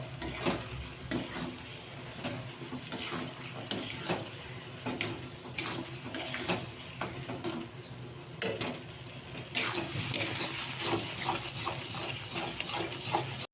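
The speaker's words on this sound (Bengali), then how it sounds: "ভালো করে মিক্স করে নিতে হবে। পুরো মিশিয়ে নেবো এগুলো সব।" Dal fry ingredients being stirred and mixed in a hot pan, with a soft continuous sizzle and repeated scraping strokes of a spoon, growing a little louder toward the end.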